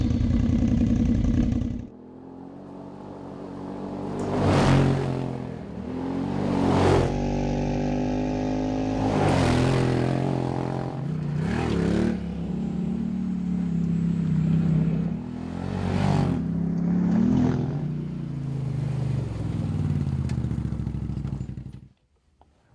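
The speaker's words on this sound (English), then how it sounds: "Just how does an MBRP exhaust system sound on a Defender" A Defender HD10 utility vehicle's engine idles and revs repeatedly through a throaty MBRP aftermarket exhaust, each loud rev rising and falling, close up, before cutting off.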